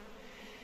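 Wild forest bees buzz steadily at a hive tucked deep under a rock, a continuous close insect hum with no talk.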